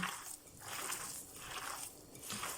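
Hands mix minced fish with salt and pepper for fish patties, giving close, wet squishing and slapping sounds that swell and fade in several kneading pulses, with no talk.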